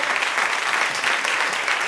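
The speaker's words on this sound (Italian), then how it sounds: "Facciamo un grandissimo applauso per Mauro!" Steady audience applause fills a cabaret theater after a 21-year-old singer from Palermo is introduced, a dense, even wash of many hands clapping at constant loudness throughout, with no voices above it.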